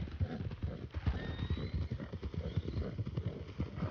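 A horse at a barn in the video game RedM gives a whinny over a steady clatter of hooves, the clip-clop rhythm continuing throughout at moderate, fairly quiet level.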